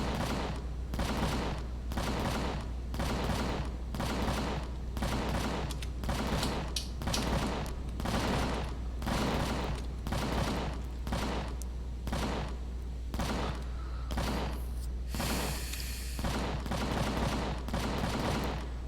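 Rapid, regular gunfire bursts from a sci-fi survival game's weapons, repeating steadily for the whole stretch at a constant close, loud level, with no talking over it.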